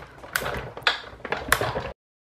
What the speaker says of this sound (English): we're going to crank these through the Big Shot.